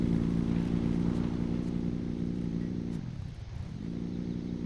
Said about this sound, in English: I gotta admit, that's one thing I really haven't heard from Sheila, is that power of the engine